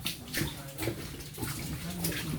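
Crystal-clear underground streams flowing through an old drainage tunnel system in Kyiv; faint, soft trickling and splashing water with a hollow, enclosed quality.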